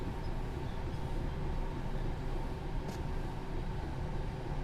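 TGV Duplex high-speed train running in Train Sim World 4, a steady broadband rumble and rail hiss holding at an even level throughout, with a brief faint high squeal near the end.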